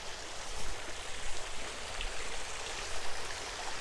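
Water runs steadily from the giant fountain in the Children's Discovery Garden at Tulsa Botanic Garden, making a continuous close splashing rush with no voices over it.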